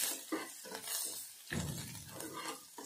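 Potato masala being stirred and mixed in a pan with turmeric, garam masala and coriander, a spoon scraping and clinking against the metal in uneven strokes, close and fairly quiet.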